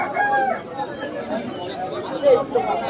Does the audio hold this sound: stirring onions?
no